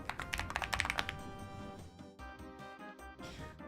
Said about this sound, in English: The keyboard sounds nice.